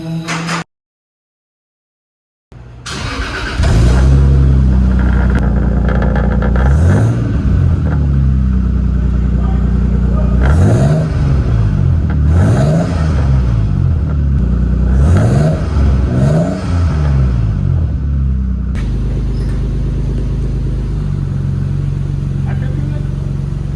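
A Toyota Supra with a straight-pipe exhaust cranks and fires up after a short silence, then settles into a loud, raspy idle broken by several sharp revs climbing and dropping, close by.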